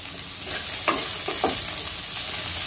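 Chopped ginger, vegetables and green chillies frying in a pan for a vrat paneer chilli, a steady soft sizzle with a few stirring scrapes, close and continuous, no talk.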